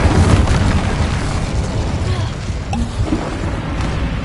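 A heavy, rumbling explosion from the Bombarda spell in Hogwarts Legacy, a loud sustained blast that decays slowly, with faint clinks and debris toward the end.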